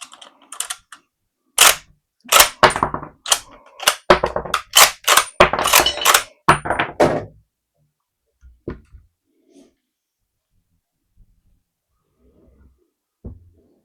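A cartridge being loaded into an Austrian Mannlicher M95/30 straight-pull rifle, a burst of sharp metallic clicks and clacks for several seconds, close and loud, followed by near silence with a few faint knocks.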